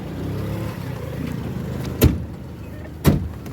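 People climb into a hired car for a trip toward a snowy mountain park, and two sharp car-door thuds land about a second apart over a low steady rumble of the vehicle, close and with no talking.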